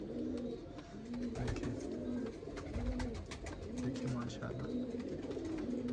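Pigeons, a matched pair perched together, coo in a steady repeating rhythm of soft, low throaty calls, close and clear over a faint background.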